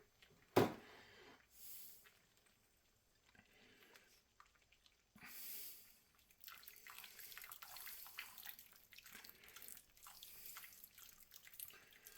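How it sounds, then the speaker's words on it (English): Juice poured from a punctured can into a pot while preparing a rehydrated venison meal, heard as a sharp tap followed by irregular dribbling, splashing liquid that grows steadier and fuller toward the end, close by with no talk. "I just made a hole so I can get at the juice here, and I'll pour it in and mix it up."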